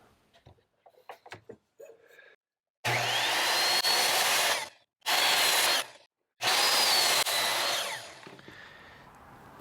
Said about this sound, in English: I'm gonna go ahead and chop these on the miter saw